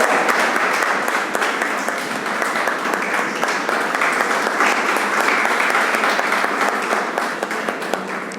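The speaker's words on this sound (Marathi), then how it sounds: "सत्कार करताना टाळ्या या व्हायलाच हव्यात" A large audience claps steadily at a felicitation ceremony during a poetry gathering's inauguration, a loud, continuous and even wash of applause that holds for the whole stretch without a break.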